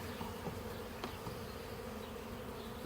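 Honeybees buzz steadily at a hive, a soft continuous drone with faint individual bees passing close, quiet and without talk.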